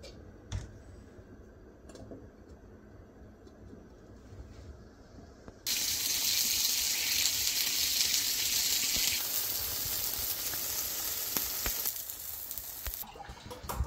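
Ragi and rice roti (day and night roti) sizzle in oil in a pan, a steady hiss that rises suddenly halfway through and stays loud before easing off near the end, with no talking.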